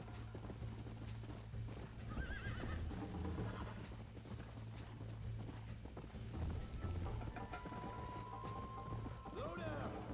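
Horse hooves clip-clopping steadily in Red Dead Redemption, with a whinnying neigh near the end, under continuous ambient game sound and occasional talk.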